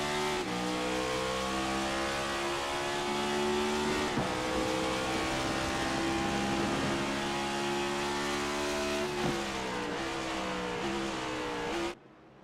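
Stock cars in a Moonshiners Racing League sim race, a continuous pack of engines droning at high revs with layered overlapping pitches shifting as cars lift and accelerate on corner exits, loud and steady before cutting off.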